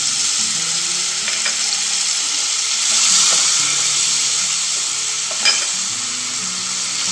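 Guava chutney being stirred in a pan with tamarind water, a steady frying sizzle running throughout with a few soft scraping strokes and light clinks, close and moderately loud.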